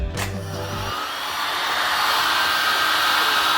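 Hot-air blower heating a board's rail guard to loosen it, a loud steady close whoosh after a brief low hum at the start, running continuously with no talking.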